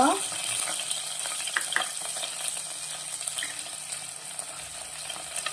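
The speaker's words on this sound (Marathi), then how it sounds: "तर आता आपलं तेल छान तापलेलं आहे, याला पहिल्यांदा आपण लसूण टाकायचे फोडणीला।" Garlic, asafoetida and green chili fry in hot oil, giving a steady, fairly quiet sizzle with small clicks and scrapes of stirring.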